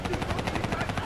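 A VTOL aircraft hovers in the Black Ops 3 campaign, its rotors beating in a fast, even thrum with a rough, pulsing texture throughout the short moment.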